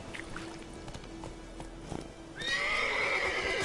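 A horse in The Witcher 3 game gives a loud, close whinny that rises suddenly near the end, after a stretch of quieter hoof clatter and ambient game sound.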